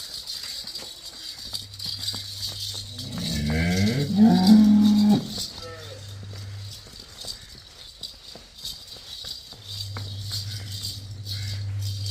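A Jersey cow moos once, fairly close and loud, on a farm where cows are being sold, with low steady background hum and faint clatter around it.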